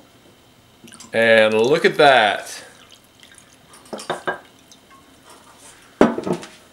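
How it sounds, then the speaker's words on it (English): Wine is poured into a double-walled Winestein stemware mug, making a bright gurgling splash whose pitch rises as the vessel fills, followed by a few light clinks and a sharp tap. A person speaks briefly afterward. "Now let's pour it in the Winestein."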